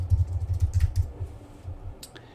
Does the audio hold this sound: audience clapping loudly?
no